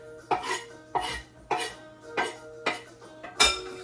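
Ham and sausage being stirred in a skillet, a spatula scraping and knocking against the pan in six steady, close strokes about every half second, without talking.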